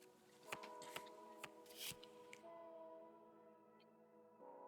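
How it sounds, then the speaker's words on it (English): A tarot deck being shuffled by an oracle character in a video game, a few crisp card snaps and riffles near the start over a quiet sustained musical drone, soft and close. "Think about Adina while I shuffle my deck."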